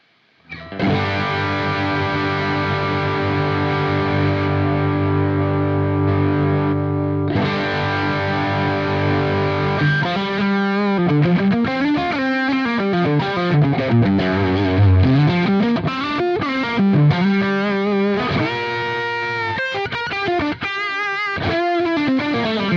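Electric guitar through a Quad Cortex Plexi amp model with an RC/Z boost and the drive turned down: loud, held distorted chords that ring out, then a stream of fast picked melodic lines, close and continuous with no voices.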